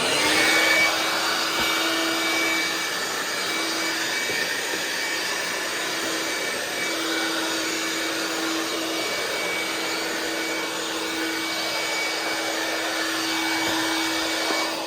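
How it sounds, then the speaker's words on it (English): A vacuum cleaner switched to blowing clears debris off a workbench, giving a steady, loud, close whooshing roar with a constant mechanical hum that runs without a break from start to finish. "I love it because I can use it as a vacuum cleaner or pull the nozzle out and clean the"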